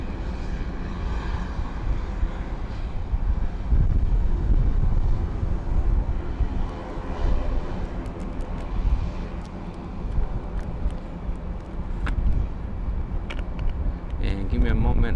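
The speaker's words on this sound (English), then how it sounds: "we got an air cargo carriers coming our way on the runway" An air cargo plane rolls along the runway at Luis Muñoz Marín International Airport in San Juan, its engines a steady, loud roar mixed with wind buffeting, while someone talks over it.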